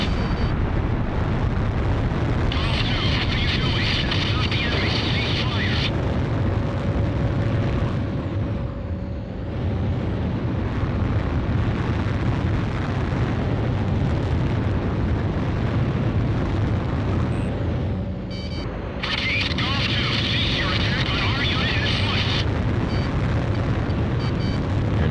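Jet fighter afterburner roaring in the Ace Combat Zero video game, a loud, steady engine rush sustained throughout with a brief dip midway, no talk.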